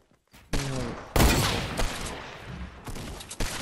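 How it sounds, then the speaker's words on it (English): Rapid gunfire bursts crackle in a Fortnite match, several sharp loud volleys in quick succession. "they're shooting me, Pops"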